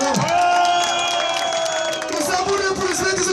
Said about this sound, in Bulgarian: А сега бурни аплодисменти за вас самите